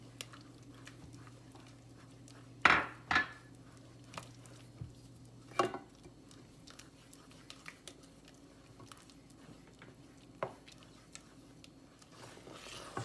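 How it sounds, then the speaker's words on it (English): A spoon stirs a thickening mixture of flour and egg yolk for shrimp fritters in a pot, with soft wet squishing and scraping and a few sharp clinks against the pan, quiet and close. "Keep on stirring."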